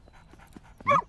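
A cartoon dog from the Latvian-dubbed Bing series gives a short, close whimpering yip at the end, after a few faint sniffs and pants.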